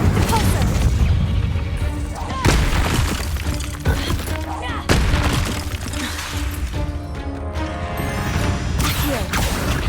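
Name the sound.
spells Incendio, Accio, Repulsor cast in Hogwarts Legacy video game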